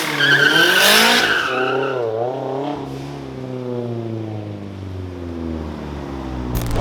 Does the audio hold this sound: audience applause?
no